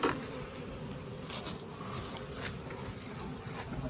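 Honey bees around a hive under overgrown tree limbs in autumn, a faint continuous buzzing hum with individual bees droning past the microphone now and then.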